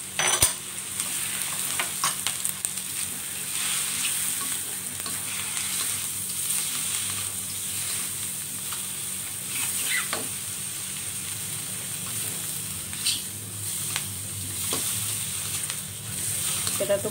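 Squid and sausage frying in a wok for seblak, a steady close sizzle with stirring scrapes and occasional clacks of the utensil throughout, no talk.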